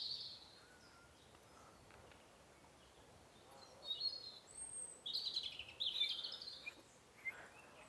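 Birds chirp and sing in British countryside, mostly faint and distant at first, then a louder burst of high twittering calls over the last few seconds against a quiet outdoor background.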